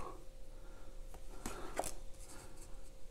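Tarot-style cards being gathered up by hand, a few soft papery swipes and rustles with one sharper slap near the middle, close and fairly quiet, with no talking.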